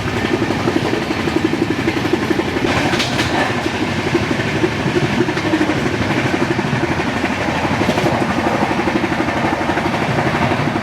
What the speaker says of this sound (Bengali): চাকার থেকে আওয়াজটা আসছে শোনো।